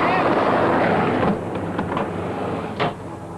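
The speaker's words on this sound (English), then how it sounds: "that's just Jim bringing the wind." Wind effect blowing in a 1982 double-glazing advert: a broad, steady rushing gust that eases slightly partway through and keeps blowing with a small swell near the end.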